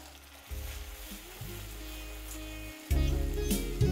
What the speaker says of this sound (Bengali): এবার এই আদা রসুনের কাঁচা গন্ধটা যতক্ষণ না যাচ্ছে ততক্ষণ এটাকে ভালো করে একবার ভেজে নিন।